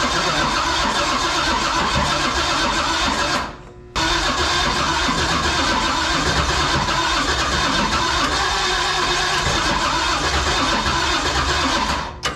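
An old tank engine, a barn find, cranks loudly and steadily on ignition with a dense mechanical roar. It cuts out briefly near the four-second mark, then churns on again with the same heavy, continuous grind until the end.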